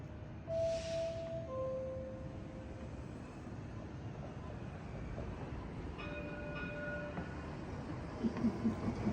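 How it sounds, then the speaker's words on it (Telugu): A Kansas City downtown streetcar rolls past on a city street, a broad steady rumble of wheels and traffic noise with a couple of short tonal horn or bell notes early on and light clanks near the end. "ఇంకా ఇది ట్రైన్ అనమాట"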